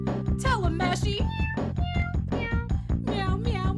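A cat meows loudly and rapidly, over and over, with rising and falling cries crowding one another above a dense, steady low background.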